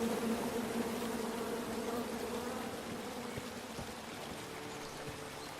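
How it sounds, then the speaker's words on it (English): Angry bees in King's Quest swarm with a dense, continuous buzzing drone that fills the whole stretch at a steady, moderate level, with no voices. "Come at me, bees!"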